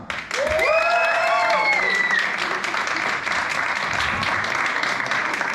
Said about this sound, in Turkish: Okay, look, applause, applaudissements, alkış for Grisha.